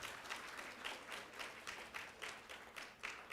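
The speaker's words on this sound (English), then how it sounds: "a round of applause for all of them" An audience at a community meeting applauds, its claps rising and falling in rhythmic waves of soft, distant clapping.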